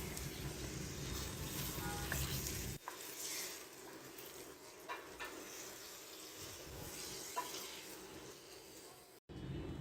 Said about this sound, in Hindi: 4 से 5 मिनट के लिए हम इसकी भुनाई करेंगे